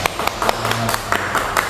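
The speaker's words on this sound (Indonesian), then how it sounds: "tepuk tangan untuk kelompok 3" Students in a microteaching classroom clap for a group, a short burst of uneven hand claps with some voices underneath.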